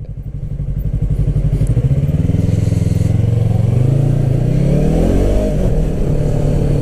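A Yamaha R3 sport motorcycle accelerating hard from close by, its engine pulsing rapidly at first, then climbing in pitch through a gear change into a loud, rising rev.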